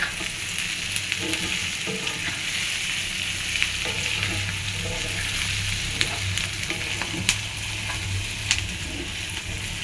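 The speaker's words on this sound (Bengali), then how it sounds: "এখনো পেঁয়াজটা ভাজা হয়নি, গ্যাস অনেক কম, তো যেন পেঁয়াজটা ভাজা কম হচ্ছে" Onion frying slowly in a pan over very low gas, a soft continuous sizzle with occasional small pops and faint stirring taps, close-up and even, with no talking.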